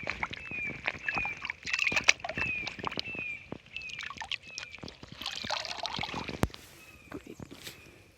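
Muddy hiking shoes being rinsed in water on a trail, with uneven splashing, sloshing and trickling up close and irregular bursts of movement.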